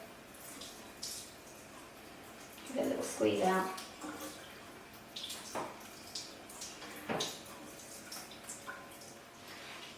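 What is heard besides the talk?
tap water running over a makeup brush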